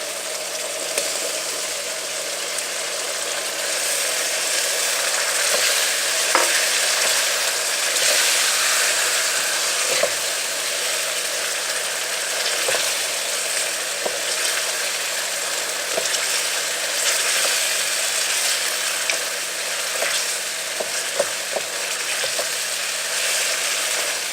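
Potatoes fry in a pan with a continuous, fairly loud sizzling hiss that holds steady throughout, broken by occasional soft clicks and scrapes, with no talking.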